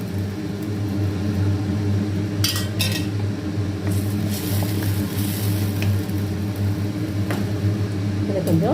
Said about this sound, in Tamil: இப்போ வந்து இந்த உருளைக்கிழங்கையும் இதில் போட்டு